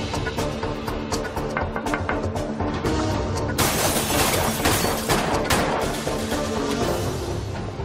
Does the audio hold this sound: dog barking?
no